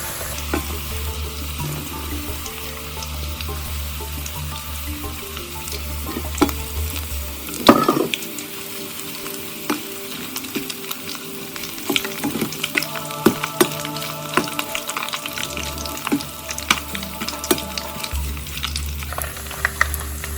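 Plantain chips fry in hot oil with a steady, busy sizzle and bubbling, broken midway by a brief clatter of stirring and then resuming loud and close with scattered pops and crackles.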